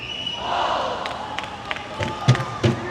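A home crowd at the TYR Pro Swim Series finals in Knoxville roars in a broad, sustained swell, with a couple of sharp thuds near the end and scattered voices.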